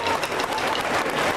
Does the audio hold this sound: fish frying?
no